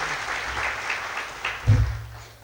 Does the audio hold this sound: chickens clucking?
no